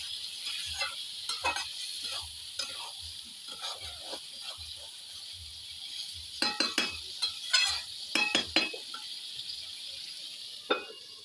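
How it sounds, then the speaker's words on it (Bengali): Meat curry is stirred in a pot with a quiet background sizzle, and a ladle scrapes and clicks irregularly against the sides, growing busier partway through. "ভালোভাবে নাড়াচাড়া দিয়ে ঢাকা দিয়ে আমি রাখতে দেবো"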